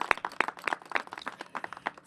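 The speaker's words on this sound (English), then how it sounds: "let's please give them a big round of applause" Applause at an outdoor community event with the Metropolitan Police Department: steady clapping from a modest crowd, with crisp individual claps in an uneven, continuous patter.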